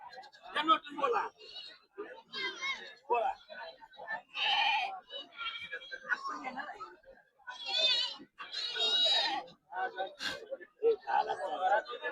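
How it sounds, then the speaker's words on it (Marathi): Goats of native breeds bleat repeatedly in loud, wavering calls amid people talking nearby, a busy goat market scene at Peth Vadgaon. "आज पेठवडगाव शेळे बाजारामध्ये कशा प्रकारे शेळ्या आलेल्या आहेत"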